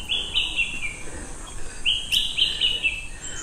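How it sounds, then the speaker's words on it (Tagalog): Birds chirp in short bright bursts around an abandoned place, a couple of clustered calls rising over a steady hiss of ambient noise and footsteps. "Ang ingay ng mga ibon."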